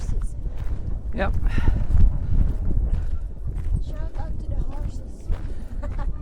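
Several horses walk along a country path near Rowarth, hooves clip-clopping in a steady irregular patter under wind noise and nearby voices.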